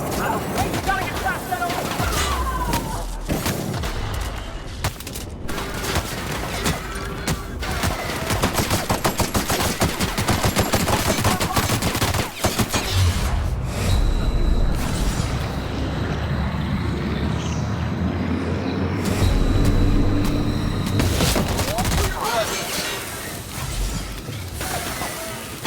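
Heavy, sustained gunfire during a space pirate boarding in the video game The Outer Worlds, dense rapid shots and impacts with mechanical rumble, loud throughout, with occasional talk underneath.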